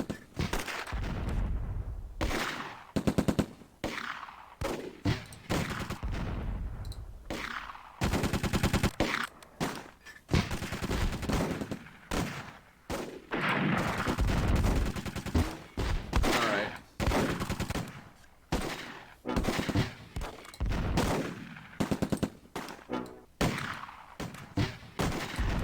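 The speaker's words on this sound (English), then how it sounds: "They're shooting a Panzerschreck at us, I think, right there, or a mortar" Battle sounds from the World War II game Close Combat, where a Panzerschreck or mortar is being fired: dense, near-continuous bursts of gunfire and booming blasts go on for about twenty-five seconds with only brief breaks.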